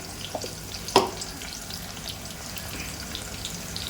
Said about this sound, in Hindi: देखिए अब प्याज को करेंगे गोल्डन ब्राउन